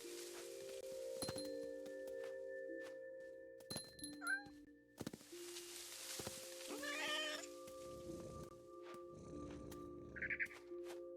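A cat meows in What Remains of Edith Finch, a few short, separate calls scattered over a steady droning game soundtrack with occasional thumps.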